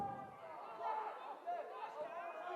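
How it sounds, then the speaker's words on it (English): A women's college basketball crowd in a gym murmurs and calls out in a faint, dense wash of many voices, reacting to a foul call. "Crowd not in agreement"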